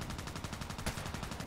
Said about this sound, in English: who's shooting from there?